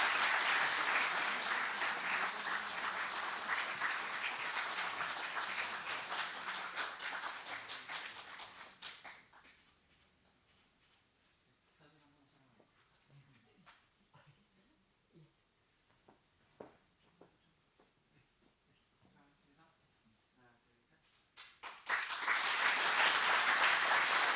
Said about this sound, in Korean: 여러분 다시 한번 따뜻한 박수 부탁드립니다